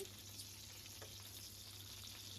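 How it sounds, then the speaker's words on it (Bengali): Eggplant slices fry in a pan with a low, even sizzle and a faint steady hum underneath, quiet and continuous without voices. "একদম বেগুন ভাজা বসিয়ে দিয়েছি।"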